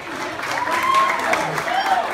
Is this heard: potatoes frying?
no